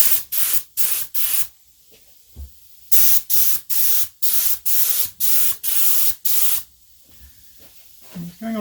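A paint spray gun sprays in a rapid series of loud, close hissing bursts separated by short pauses, with a brief voice near the end.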